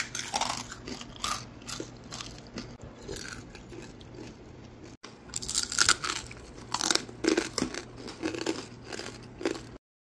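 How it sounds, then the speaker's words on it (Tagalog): Crispy pata, a deep-fried pork leg with crackling skin, being broken up: loud close crunches and crackles in irregular bursts, pausing briefly midway before a denser stretch of brittle snapping. "Ang sarap ng tunog habang nagkikrisp yung balat"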